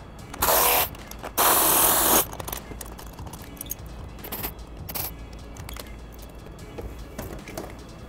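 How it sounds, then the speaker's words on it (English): Two bursts of a power tool whir loudly loosening the 10 mm bolts of a battery hold-down on a 2015+ Subaru WRX, followed by quieter clicks and handling noises. "Just loosen the two 10 millimeter bolts that are holding the battery stay in place"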